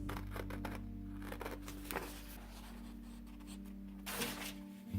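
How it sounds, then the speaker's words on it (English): Soft, steady scratching of a pencil outlining a heart shape on newsprint, close and quiet, with a few light taps and rustles over a low hum. "Here I'm using a piece of newsprint to outline a heart and cut it out."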